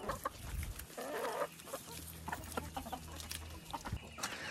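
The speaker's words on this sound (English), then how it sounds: "I'm gonna go ahead and let the chickens out" Backyard homestead chickens just let out of their coop, clucking and chattering close by in a busy, overlapping flock with scattered soft calls.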